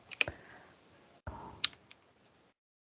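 A few scattered clicks from a computer keyboard, quiet and close, with a pair of sharper taps near the start and another near the middle over a faint background hiss; no speech.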